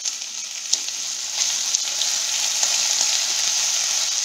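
Cauliflower florets fry in a pan, a dense steady sizzle with scattered crackles and faint clicks, close and moderately loud, no talking.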